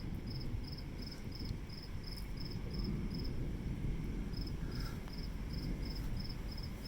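Crickets chirp in regular pulsed bursts at night during an electrical storm, set over a steady low rumble of wind and rain noise that fills the whole stretch.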